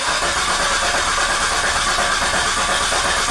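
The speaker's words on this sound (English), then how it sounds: "Let's crank it over." A Volvo XC90 suffering a long-crank no-start turns over steadily, its starter and engine cranking as a dense, continuous broadband whir with hiss that stays loud and even throughout.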